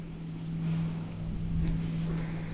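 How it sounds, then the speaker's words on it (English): The electric motor of an Old Town Sportsman BigWater ePDL+ pedal-assist kayak runs on the water with a steady low hum and tone, mixed with wind and water noise, close and even throughout. "I'm gonna turn the engine on."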